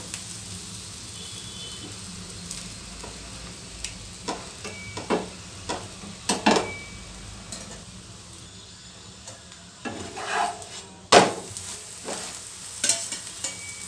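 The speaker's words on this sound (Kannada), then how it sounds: "ಚೆನ್ನಾಗಿ ರೋಸ್ಟ್ ಮಾಡಬೇಕು ಈಗ ಸುತ್ತು ಸ್ವಲ್ಪ ಎಣ್ಣೆ ಮೇಲ್ಗಡೆ ಸ್ವಲ್ಪ ಎಣ್ಣೆ ಹಾಕಬೇಕು" A rice chapati roasts with oil on a hot pan, giving a soft sizzle broken by scattered scraping and turning sounds, quiet and close, with no talking.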